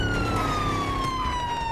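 A police car siren from the video game GTA 5 wails loud and close with a single sliding tone, steady over a low engine and road rumble, with no talking.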